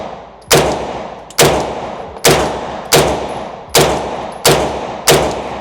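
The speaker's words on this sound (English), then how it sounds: "put it on semi. Okay, so first shots" An MP5 clone fires on semi-automatic: seven loud, close single shots at a steady pace of roughly one per second, each sharp crack followed by a short ringing decay.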